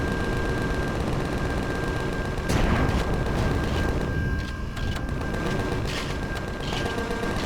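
Sustained turret gunfire in the sci-fi game Empyrion Galactic Survival, a dense, continuous burst of rapid shots with booming swells running steadily throughout.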